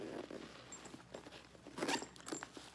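A zipper on an Atlas Level 8 backpack being pulled in several short, quiet rasping strokes close up, with soft handling noises in between.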